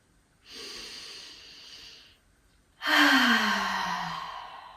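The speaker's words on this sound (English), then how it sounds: "just take a nice long slow breath in through the nose" A long, slow breath drawn in through the nose during a calm yoga breathing exercise: a soft, steady airy inhale, a brief pause, then a louder, fuller breath that gradually fades, close and clear with no talking.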